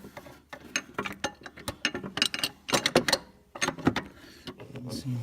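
A wrench works a nut during a water pump replacement on a Jeep Liberty, producing rapid metallic clicks and ratcheting clatter in irregular bursts, close by, with some speech mixed in.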